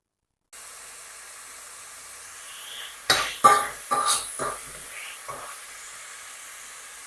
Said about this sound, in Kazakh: Енді осыны жақсылап қуыратын боламыз.